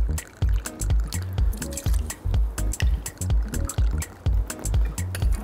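Honey liqueur is poured into a cocktail, producing close, irregular glugging and dripping splashes with short pauses in between, alone and fairly quiet.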